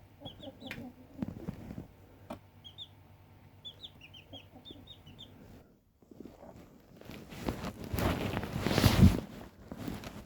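Chickens cluck and chirp softly near their coop in a wooded setting, a cluster of small bird calls in the first half, then footsteps and rustling grow louder and closer.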